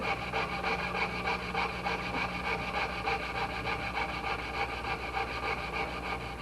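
Cutting away a little more material on a clock part makes a continuous, rhythmic rasping of fast, even strokes, close and steady throughout with no talk.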